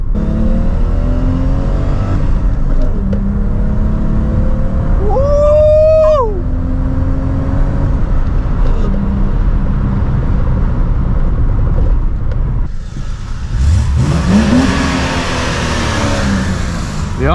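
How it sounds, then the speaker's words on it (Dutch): A six-cylinder BMW E30 325i engine revs loudly and close, pitch climbing and falling through several throttle bursts, with a brief rising whine near the end. "Dat is al puur 6-cilinder lawaai weer."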